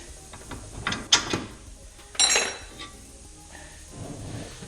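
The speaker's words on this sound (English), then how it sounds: "take those last bolts off down bottom and we'll have our old strut out" A ratchet clicks in short bursts with metallic clinks while removing the lower strut bolts on a car, heard up close with pauses between bursts and no voices.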